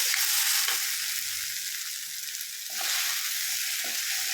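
Chicken masala with turmeric sizzles steadily in a hot kadai, a continuous bright frying hiss with a few soft stirring scrapes and a brief swell near the end.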